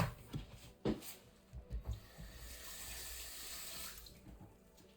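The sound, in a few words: tap water running while washing rice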